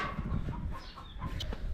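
Farmyard chickens cluck in short, close bursts outdoors while someone walks a dog, with the clucks clear against a quiet background.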